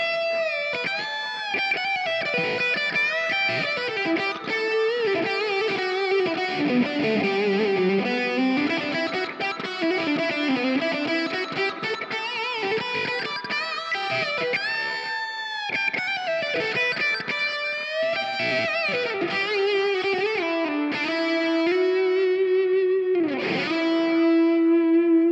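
An electric guitar plays through a Mooer Cab X2 pedal with reverb and delay switched on, producing sustained, distorted, chorus-like chords and lingering notes that ring out loudly and continuously with wide trailing echoes, without any talking.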